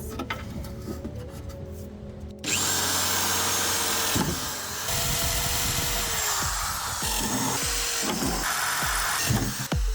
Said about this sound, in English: you could just drill while the rock sliders are in place